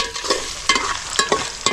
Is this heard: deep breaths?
no